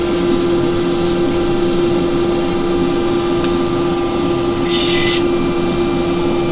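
Wood being sanded with 240 grit sandpaper on a spinning woodturning lathe, a continuous loud steady hum and abrasive rasp with a brief hiss burst near the end and no talking.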